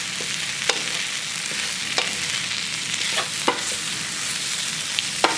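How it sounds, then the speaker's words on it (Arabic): Onions, garlic and spices frying in oil in a pan give a steady soft sizzle. A spoon stirs them, making several sharp scrapes and clicks at irregular intervals, and no one speaks. "كنقلبو مزيان حتى ياخذ لينا هذيك الطيبه ديال التوابل"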